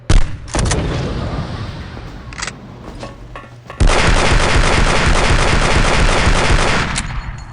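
Grenade blasts and gunfire in the game Aliens vs Predator 2: Primal Hunt, with loud booming bursts that open the sequence and then a long, dense barrage of rapid, rumbling explosions.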